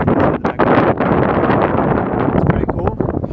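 Strong coastal wind in Southampton buffets the microphone with loud, continuous roaring gusts, near and harsh throughout.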